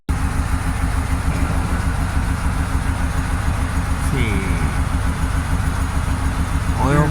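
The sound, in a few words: Pontiac Grand Prix GXP engine idling after first start-up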